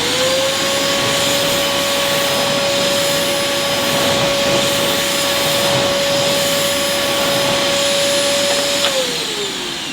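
A Vytronix budget bagged cylinder vacuum cleaner runs loud and steady at close range, a constant motor whine and airflow roar that winds down slightly near the end.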